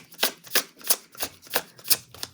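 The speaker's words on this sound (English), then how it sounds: "These cards are shuffling" Tarot cards being shuffled by hand in a run of six crisp riffling bursts at a steady, even rhythm, close and clear with no talking.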